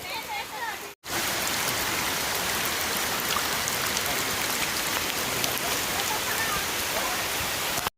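Heavy rain pours steadily in an outdoor setting around the Kashmiri Bapu ashram at Bhavnath, Junagadh, a dense continuous hiss broken by a brief dropout near the start.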